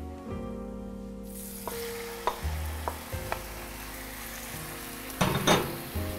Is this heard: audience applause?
no